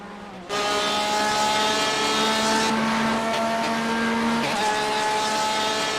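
Race car engine in a racing video game at Daytona, droning loud and steady with rising harmonic whine as the throttle opens after a chicane, continuous throughout.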